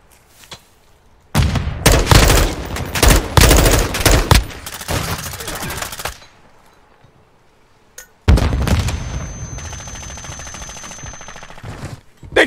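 Call of Duty Search and Destroy gunfire comes in two loud, dense bursts of rapid automatic shots with booming impacts, separated by a quiet gap, with no talking.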